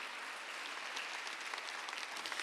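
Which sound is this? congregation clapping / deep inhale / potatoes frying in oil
congregation clapping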